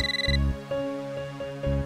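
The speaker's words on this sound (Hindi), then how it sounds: "लेकिन लो, आ गया फोन।" A phone ringtone plays alone in a repeating electronic pattern of short melodic tones, clear and fairly close in a quiet room.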